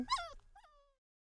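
A very cute puppy gives a short, high whimper followed by a thinner fading whine, two quick close cries in quiet surroundings.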